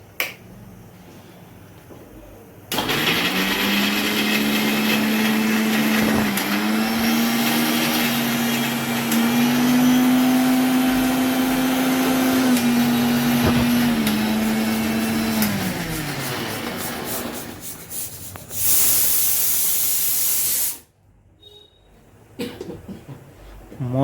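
A mixer grinder grinding ginger, chillies and garlic with a little water whirs loudly for about fifteen seconds, its motor pitch steady then dropping as it slows, with clicks of the switch before and after.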